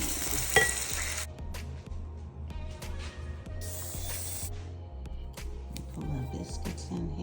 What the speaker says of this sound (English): a little bit more cream in here. Sausage gravy.